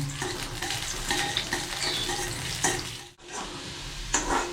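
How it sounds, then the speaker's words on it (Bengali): Chopped onion hits a thin film of oil and fries with a continuous bright sizzle, broken by scraping stirs and a short pause before the hiss picks up again; no one speaks. "তেলের মধ্যে আমি একটু পেঁয়াজ কুচি দিয়ে দিলাম"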